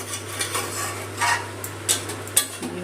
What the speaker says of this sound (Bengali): জলের সাথে সব ভালো করে মাংস মশলা মিশিয়ে নিচ্ছি